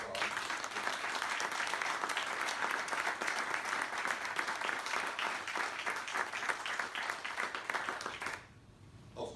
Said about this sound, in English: I'd like you to help me join in by giving Bob a round of applause